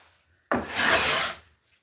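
One smooth rasping stroke of a hand plane shaving old wormy chestnut wood, close and loud, rising sharply and fading after about a second.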